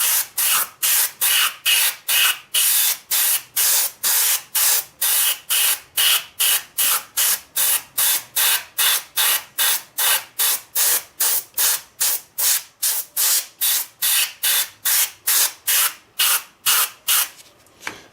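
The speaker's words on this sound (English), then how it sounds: "I'm using about 40 pounds off my compressor here for the airbrush." An airbrush running off a compressor at about 40 psi lays a thin coat of paint on a model B.N. Airslide covered hopper car, firing short, sharp spray bursts in a quick, steady rhythm, roughly forty in a row.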